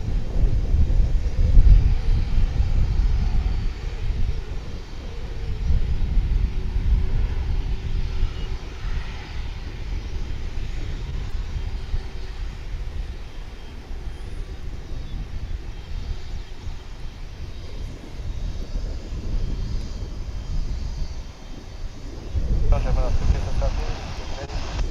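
At DFW, an airliner fully fuelled for a long flight takes off with a sustained jet engine roar that swells and eases slightly, with wind noise on the microphone.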